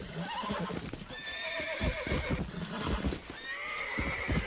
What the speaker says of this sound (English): Maybe I can't horse break like I thought I could.